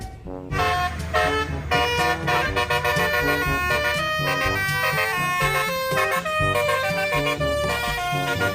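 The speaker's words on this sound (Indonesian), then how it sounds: "Mobil bus telolet." A toy bus sounds its telolet horn, a loud, bright tune of rapid tooting notes in a melodic sequence that starts abruptly and plays on close by.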